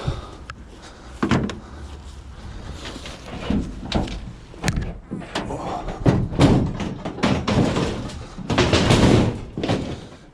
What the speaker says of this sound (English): Door stuck.